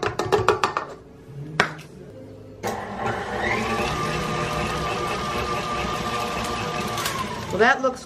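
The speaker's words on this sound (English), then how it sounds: "add the honey, the vanilla, and the lemon juice and mix on medium" Electric mixer running at medium speed through honey, vanilla and lemon juice for peanut-free cookie dough: a few clunks and scrapes, then a steady whirring hum lasting several seconds before a final clatter.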